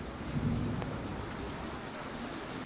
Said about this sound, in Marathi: या ठिकाणी मान्सून पूर्व पावसाच्या सरी कोसळलेल्या आहेत।